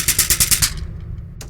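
Rapid burst of about seven bright, crackly gunshot-like hits built as a rake layer from household objects, an automatic firing run that stops abruptly and leaves a brief fading tail and one faint click.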